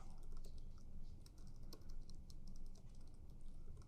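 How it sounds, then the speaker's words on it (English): Someone types a query on a computer keyboard, the keys clicking in a quick, uneven run with no pauses for talk. "Oh no, we'll type it out."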